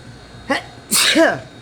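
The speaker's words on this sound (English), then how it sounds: "Sneeze." A small breathy intake leads into one loud, forceful sneeze right at the mic, trailing off with a voiced exhale.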